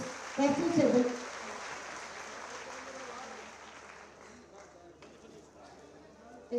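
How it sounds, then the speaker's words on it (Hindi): Audience applause at an honoring ceremony for sanitation and health workers at the Prayagraj Maha Kumbh Mela grounds, sustained clapping under someone speaking over a microphone, fading gradually. "बहुत जोरदार तालियां"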